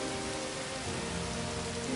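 Steady rain falls as a storm closes in, a dense, even hiss of drizzle with a low rumbling undertone, faint and continuous without any voices.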